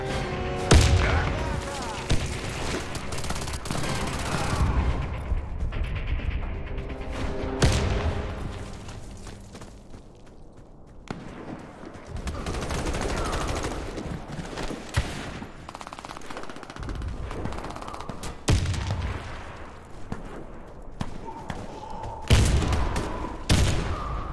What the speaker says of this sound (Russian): Осторожно, граната! Граната пошла!